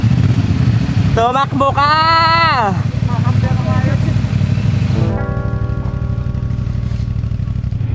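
A motorcycle engine runs steadily throughout, low and close, with a lowered bike carrying heavy riders, while people shout and talk over it and a brief high tonal squeal cuts in.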